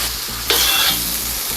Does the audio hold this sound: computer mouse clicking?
no